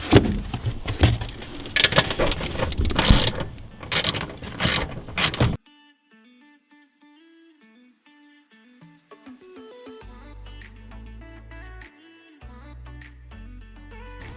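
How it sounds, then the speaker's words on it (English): Two 14mm bolts come off during a coilover install on a BRZ/FRS/86, with a close ratchet and wrench clicking and clanking busily for several seconds before the sound cuts to quiet background music. "So I'm just going to start off by removing these 2 14mm bolts."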